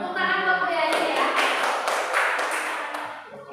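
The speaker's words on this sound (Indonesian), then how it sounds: "Tepuk tangan buat Bu Yayu ya." A group claps for a presenter at a school gathering, a dense burst of applause that fades slightly toward the end, with a tonal murmur at the start.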